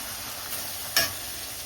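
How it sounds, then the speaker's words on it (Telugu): Dried prawns with turmeric sizzle steadily in hot oil, a close, even frying hiss with a brief sharper crackle partway through and no talking. "పసుపు ఆయిల్లో చక్కగా వేగాలండి, దోరగా వేగాలి రొయ్యలు."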